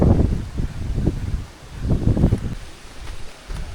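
Wind gusts through a forest on a cloudy day, rising and falling in rough surges of rushing noise and microphone buffeting, with brief lulls between gusts.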